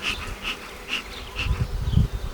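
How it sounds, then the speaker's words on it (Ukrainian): Honey bees hum around an open Ukrainian-Alpine beehive during a spring nest expansion, with several brief buzzes drifting past nearby over a steady low hum and some low handling rumble toward the end; no talk. "тут багато бжіл. Бачу всі рамки в розплоді."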